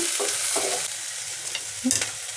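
Ginger-garlic and masala fry in a kadai for kadai paneer, a short close sizzle with a few stirring scrapes and no talking.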